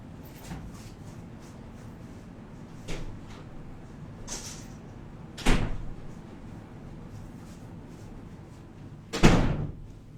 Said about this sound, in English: I'm going to let my dog out to the door.